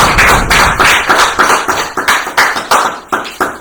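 A church congregation claps together in a steady rhythmic beat, loud and close, each clap a sharp slap repeating about twice a second with no talk.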